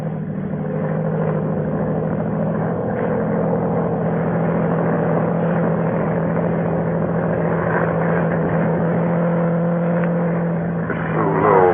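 A monoplane's engine drones steadily and loudly overhead in a radio drama sound effect, a continuous propeller hum that holds throughout with no voices.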